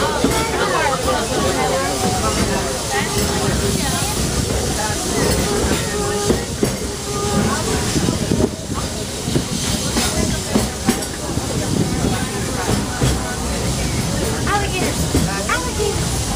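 The Walt Disney World Railroad train at Magic Kingdom in Orlando, Florida, rolls along with steady rumbling, hissing and rhythmic clatter filling the scene, while voices talk faintly underneath the continuous ride noise.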